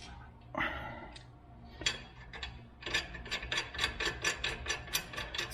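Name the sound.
rear brake rotor turning, checking parking brake drag, Acura TL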